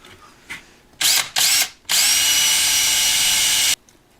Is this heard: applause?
no